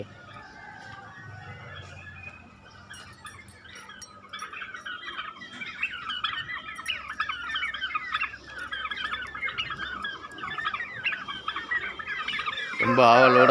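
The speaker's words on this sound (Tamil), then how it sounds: "பாருங்க கருங்கோழியை" Hens cluck and chatter steadily in a run, with soft low background murmur and a louder squawk near the end.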